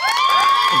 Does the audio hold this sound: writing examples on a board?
no